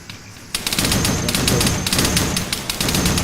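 Rapid automatic gunfire from the Arma 3 video game, during a night firefight from a patrol boat on a riverbank, bursts in a loud, dense, sustained rattle after a brief quiet start.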